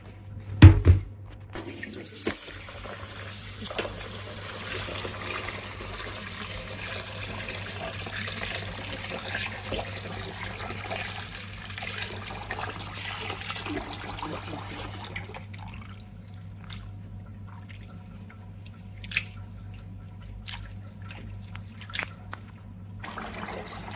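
Lentils and rice are washed under running water from a kitchen tap, a steady stream into a vessel with light sloshing and occasional clinks, heard close with no talk.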